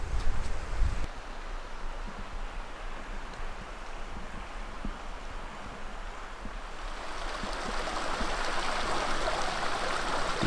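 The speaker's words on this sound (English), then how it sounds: "That's the sound of flowing water." The Gila River flows steadily in a broad, continuous rush of water heard close by outdoors, its hiss swelling slightly toward the end with no voices.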